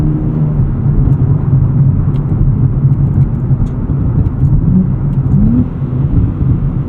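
A 2024 Nissan Z Nismo engine blips its revs on downshifts, a loud steady in-cabin drone with short rising throttle swells near the end.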